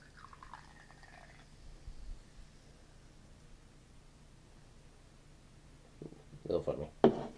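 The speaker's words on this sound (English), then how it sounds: "Because you're going to add final ingredient, Red Bull yellow." Red Bull yellow edition is poured into a foamy cocktail, giving a short splashing burst of liquid near the end after a mostly quiet stretch with faint background noise.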